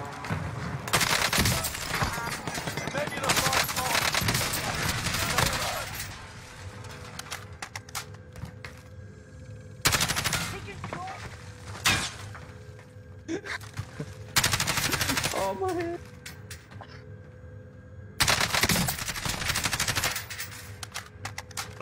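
Bursts of automatic gunfire from a shooter video game in a bot lobby, loud rapid fusillades in several clusters separated by quieter stretches of game ambience.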